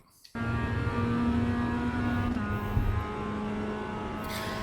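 The engine of a Mazda MX5 race car in the iRacing video game fires up and drones steadily at a loud, close cockpit level, pitch holding then shifting slightly as it drives on at Navarra Speed Circuit.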